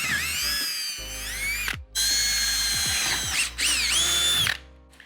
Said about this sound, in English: We're just using this to help hold it in place while we drill the rest of them